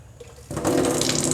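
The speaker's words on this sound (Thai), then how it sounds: "น้ำไหลแล้วนะครับ" Tap water starts rushing out right after a water purifier is installed: a faint low hum, then a steady, close, broadband gush that holds to the end.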